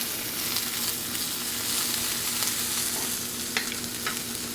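Garlic sizzles steadily in a hot pan beside grilled miso salmon, a constant close frying hiss with a few sharper crackles and stirring scrapes.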